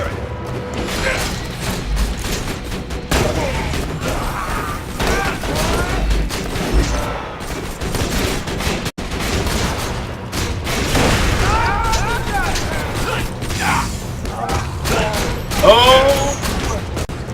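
A Borderlands 2 turret firing repeatedly amid a running firefight, with dense booming shots and mechanical clatter throughout, loud and sustained, with scattered voices over the action.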